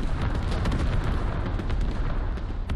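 Creeping artillery barrage in the video game Squad, a dense rumbling wall of overlapping explosions and booms, loud and continuous, with no voices.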